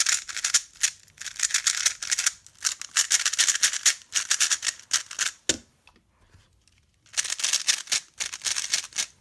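Rapid plastic clicking and clacking as a magnetic Gans Air speed cube is turned quickly, in bursts with a short pause in the middle, close and fairly quiet.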